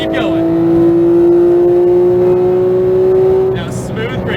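Porsche 911 GT3 991.2 accelerating hard on a racetrack after an upshift, a loud steady engine tone climbing gradually before easing off near the end, with voices talking over it.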